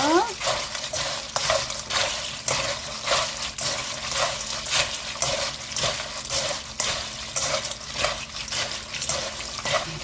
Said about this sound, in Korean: 불을 꺼주시고 얼른 이때 저어주세요